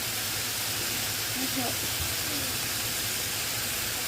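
Lentils sizzle in hot oil in a pan as they are stirred, a steady dense hiss of frying that holds evenly throughout, with a voice faintly underneath.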